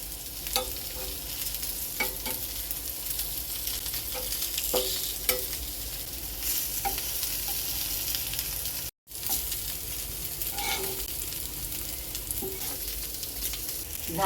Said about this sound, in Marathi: मी आता हे सगळे परतून घेते